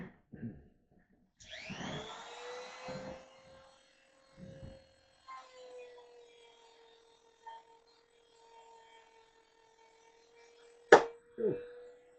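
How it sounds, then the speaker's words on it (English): An electric sander spins up with a rising whine, then settles into a thin steady hum that runs for several seconds before a sharp knock. Brief bits of talk come at the start. "change over to my other sander now."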